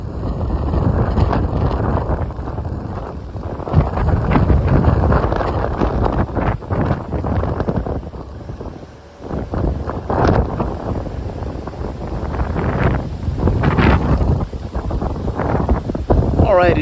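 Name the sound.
strong wind outdoors in Miami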